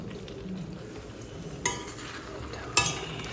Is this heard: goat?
no